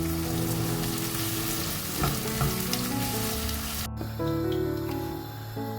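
Onions frying in a pan for chicken korma, a steady close sizzle with occasional stirring scrapes, briefly dropping out near the middle before the crackle resumes.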